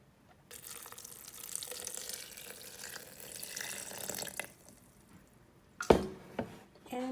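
Water is poured into a NutriBullet blender cup, a steady soft pour for several seconds that stops, followed by a few louder clunks and splashes close by.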